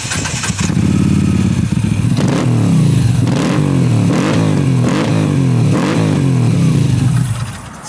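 A roughly 50 horsepower motorcycle engine fires up, then revs repeatedly in rising and falling bursts with a throaty exhaust, loud and close, before settling back toward idle.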